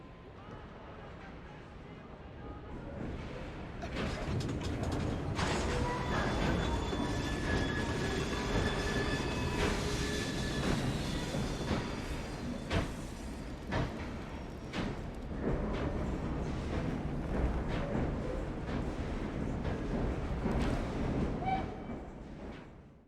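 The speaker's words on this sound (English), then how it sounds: "We fixed up the train for you." Train in the video game Assassin's Creed Syndicate, set in Victorian London: a steady rolling rumble of railway wagons with squealing wheels runs throughout, loud and close, with voices talking over it.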